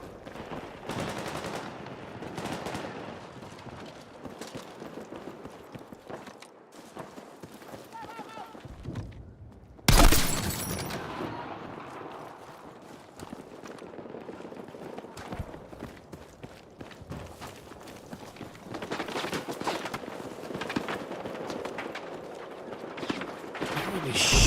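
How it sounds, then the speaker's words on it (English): Battlefield 6 gunfire: scattered shots and bursts crackle at mid distance through most of the stretch, with a sharp loud report near the middle, under a busy bed of footsteps and game noise, with talk over parts of it. "Where are these shots coming from?"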